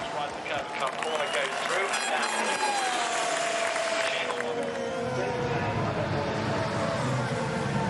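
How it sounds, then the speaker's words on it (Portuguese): Trackside crowd applauding and cheering at Silverstone during Formula 1 practice as Lando Norris drives past, a dense continuous wash of clapping with a car's engine sweeping by mid-way. "Dá pra ouvir o público, olha, o Norris passando e a galera aplaudindo, apupando ali"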